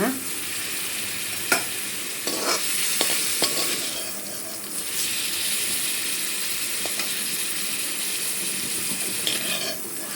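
Frying and stirring in butter in a pan while cooking palak paneer gravy: a continuous close sizzle with scraping stir strokes and a few sharp utensil clicks, no voices.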